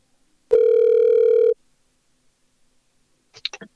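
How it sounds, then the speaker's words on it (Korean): A telephone line connects with a single steady ring tone lasting about a second, followed by a short pause and a brief click-like burst as the call is answered for a news interview. "전화로 연결해서 이야기를 들어보도록 하겠습니다"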